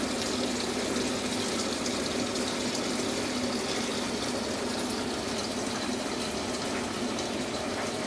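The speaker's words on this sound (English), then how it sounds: "it's filling with water in there." A Panda PAN50SW portable automatic washer filling with water, a steady rushing gush of running water that continues evenly throughout without pauses.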